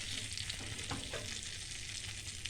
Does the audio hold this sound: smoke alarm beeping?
no